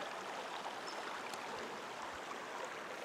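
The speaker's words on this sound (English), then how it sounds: "There's a river." A river flowing near a backcountry campsite in the Barrier Peaks, heard as a steady, soft broadband rush of water that stays constant throughout with no talk.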